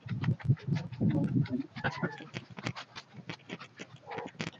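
Chickens on a small native chicken farm in the Philippines, clucking and calling in short bursts with a person talking now and then.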